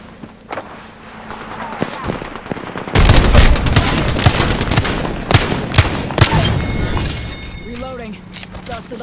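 Rapid automatic gunfire in the battle royale game Apex Legends, loud and sustained bursts of shots with sharp crackling impacts, followed by scattered single shots and game effects, with character voice callouts heard underneath.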